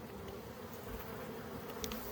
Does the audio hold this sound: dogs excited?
no